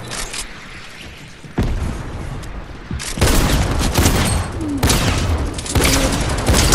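Gunfire in the Fortnite video game: bursts of shots crackle in a sustained fusillade, growing louder and denser after a quieter opening, with a heavy thump partway through.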